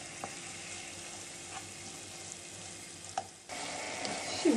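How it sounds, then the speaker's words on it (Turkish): Tomato and pepper paste sautés in a pan with a soft, steady sizzle, broken by a few faint taps of a utensil stirring it. "Birkaç dakika bu şekilde kavuruyoruz."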